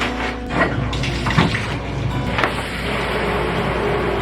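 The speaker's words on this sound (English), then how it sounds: "So I'm gonna shower." Shower water runs in a steady, fairly loud rush, with a few knocks and bumps near the start.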